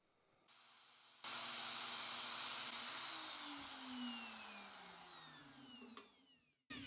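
Shaper Origin handheld CNC router cutting a logo, a loud high motor whine that spins up abruptly, with a grinding cut whose pitch sweeps downward as it slows, then stops.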